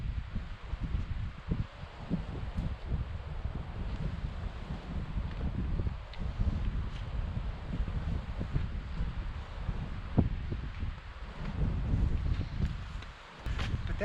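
Wind buffets the microphone near a boat and trailer at a remote Alaska cabin, low gusty rumbling and rustling throughout with occasional light knocks.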